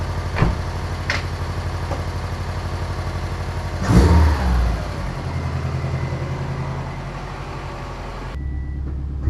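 A Subaru engine, after a misfire repair, idles and runs steadily up close, with one brief rev in the middle and some clicks near the start.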